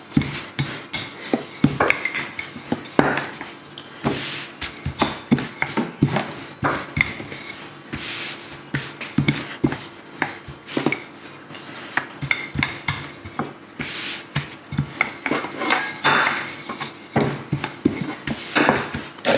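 Panzerotti dough is rolled out into circles on a floured surface, with repeated close wooden knocks, scrapes and rubbing strokes in an uneven rhythm throughout, no talk over it.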